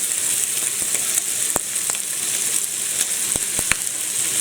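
Ham and sausages frying in a pan over turned-down heat, ready for an omelette, a steady bright sizzle with a handful of sharp spits and pops scattered throughout, no one speaking.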